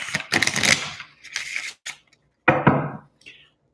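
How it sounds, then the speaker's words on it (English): Tarot cards being shuffled by hand, several quick riffling bursts and soft papery slaps in short irregular runs separated by brief pauses, close and fairly quiet. "while I'm shuffling your cards"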